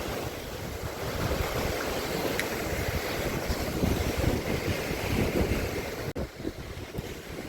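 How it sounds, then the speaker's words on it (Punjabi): Sea waves washing along the Geelong waterfront beach in Victoria, Australia, a steady rushing surf with wind buffeting the microphone, continuous and fairly loud with no voices. "ਪਾਣੀ ਪਾਣੀ ਦਿਸਦਾ ਮੈਨੂੰ ਚਾਰੇ ਪਾਸੇ ਸਮੁੰਦਰ ਦਾ ਇਹ ਕਿਨਾਰਾ ਜਿਸ ਤੇ ਕਿਨਾਰੇ ਤੇ ਮੈਂ ਖੜਾ ਹਾਂ"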